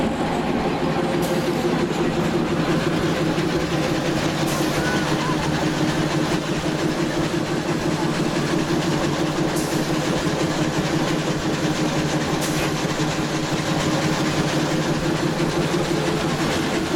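A narrow-gauge LYD2 diesel locomotive of the Bieszczady Forest Railway, built by Faur in Bucharest, runs steadily with a dense, continuous engine rumble and mechanical clatter, loud and close, with faint metallic clicks at intervals.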